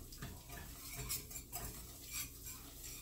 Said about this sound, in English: just stir it around until it cooks a little bit